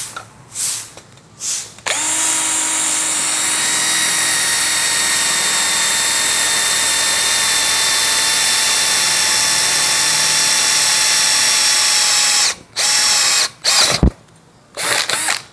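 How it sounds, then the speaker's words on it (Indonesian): A cordless impact drill whines steadily as it bores through roughly 3 mm steel plate with a 6 mm bit, one long continuous run after a few short starts, then stopping and restarting in brief bursts. "Sekarang kita akan mengebor besi dengan ketebalan kurang lebih 3 mili menggunakan mata bor besi"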